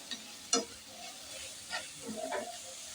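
Onions fry in a pan, a soft continuous sizzle with a few brief stirring scrapes and pops, fairly faint and close, with no talk.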